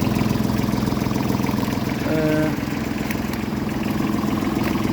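Fuji engine of a small 2011 Baransan 21-horsepower 4x4 tractor idling, a steady low rumbling drone held evenly for the whole stretch with a brief tonal whine in the middle, close by and with no talk.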